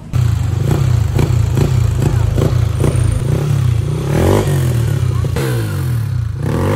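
A Yamaha NMAX v2 scooter with a 59 mm throttle body and a pipe missing its fiber packing runs loud and close, its steady low engine drone broken by rhythmic clattering blips and rising revs toward the end.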